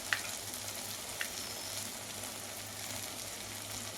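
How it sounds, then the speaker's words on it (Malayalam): Breadfruit bajji fritters fry in hot coconut oil with a steady, soft sizzle and crackle, plus a couple of small pops near the start, and no voices over it. "ഇതിൽ രണ്ടെണ്ണോ മൂന്നെണ്ണോ ഒക്കെ ഇട്ട് നമുക്ക് ഫ്രൈ ചെയ്തെടുക്കാം"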